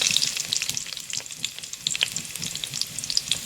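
Onion fries in a pan while chicken tinola is being cooked, a close crackling sizzle with scattered sharp pops and scraping stirs, moderately loud and uneven, with no voices.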